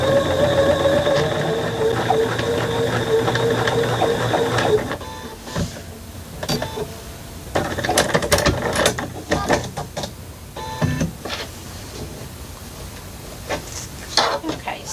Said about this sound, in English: I'm just going to do a straight stitch